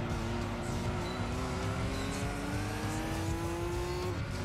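Four-wheel-drive Nissan Skyline racing in Gran Turismo 2: a loud, continuous engine drone rising steadily in pitch as it accelerates, with tire noise underneath and no talking.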